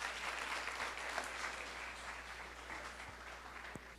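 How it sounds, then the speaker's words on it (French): An audience at a French launch event claps steadily in a dense, even applause that holds for several seconds at moderate, slightly distant volume, with no speech over it. "Je vous demande de l'applaudir."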